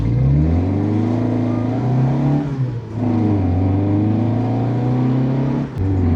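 A Lancia A112 Abarth's small engine revving hard close by, rising pitch through the gears with a brief dip and shift partway, loud and alone with no talk.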